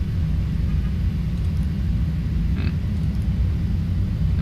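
Boeing 737-800 jet engines spooling for takeoff in a flight simulator, a steady loud low rumble with a hissing roar over it, continuous and unchanging, with a faint brief chirp partway through.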